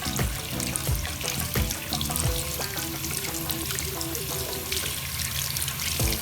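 Tap water runs steadily into a sink while a soaked, shell-less egg is washed under it, a continuous close splashing and gurgling with small irregular drips and taps.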